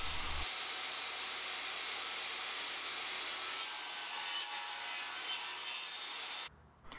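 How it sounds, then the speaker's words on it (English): Hand saw cutting small wooden pieces for a pin board frame, a steady, close rasping stroke that runs continuously for several seconds and then stops abruptly. "And then I can cut two smaller pieces for the top and the bottom."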